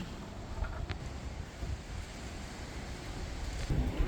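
Steady wind blowing across the microphone, a continuous low rushing roar with gentle swells and no voices.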